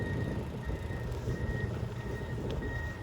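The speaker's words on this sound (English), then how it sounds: "Here's some construction." Reversing beeps from a truck at a road-widening construction site repeat at a steady rhythm, fairly faint and distant over low rumbling traffic and machinery noise.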